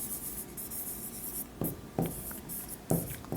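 Handwriting with pen on paper, a soft continuous scratch with several sharper strokes and taps standing out, close and quiet, with no one speaking.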